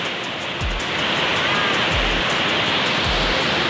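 Tujuh Bidadari waterfall in Aceh roars as a steady, dense rush of falling water, loud and continuous, with a few low thumps from handling.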